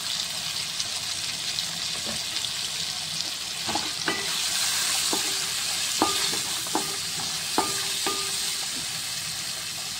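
Tomato pieces sizzle steadily in hot oil with turmeric for a Telugu-style puffed rice dish, a continuous close frying hiss broken by a few clinks of a spoon stirring the pan.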